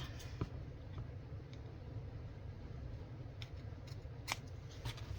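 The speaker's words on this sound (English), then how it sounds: "So I'm just gonna snip this one and this one. Just freehand." Quiet, sparse snips of scissors cutting paper freehand, a handful of short clicks spread over a faint background hum.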